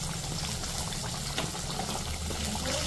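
A pot of meat curry with amla boils on the stove. The bubbling is a constant soft gurgling and hissing that stays close and steady, with no one speaking.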